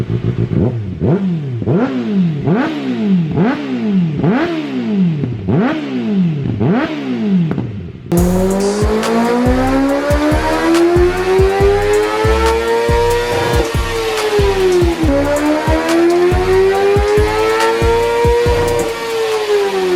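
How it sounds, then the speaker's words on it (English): A 2024 Kawasaki ZX-6R with an Akrapovic slip-on exhaust is revved hard and close: a series of quick rhythmic blips, then long sweeping high-rpm revs that climb, fall and climb again. "I have not heard a ZX-6, a newer one, with this Akrapovic slip-on. Oh, it sounds good."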